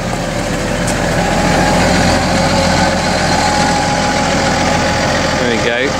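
Tractor engine idling steadily while reversing across a field during maize planting, a constant loud diesel rumble running throughout with a faint voice underneath.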